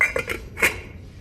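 A few quick metallic clinks and a final clatter as a lid settles onto a pot of boiling rice, close and brief, then quiet.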